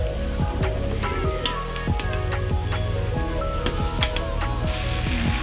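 Sliced onions and boiled potato sizzle steadily in a hot pan of oil, with a dense crackling hiss and scattered clinks and scrapes, close and loud, with no talk.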